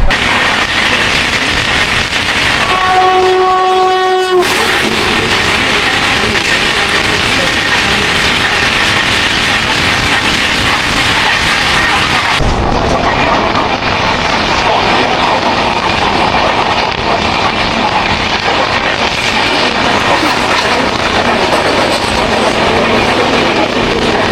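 The 12314 New Delhi Rajdhani Express rushes past alongside the Gurumukhi Express, a continuous loud roar of wheels and wind with a brief tonal whine early on and a sharp change in the rushing noise partway through.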